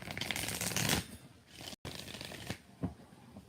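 Tarot cards are shuffled in a quick riffle, a dense rustling burst that fades, then softer flicks and taps follow after a brief cut.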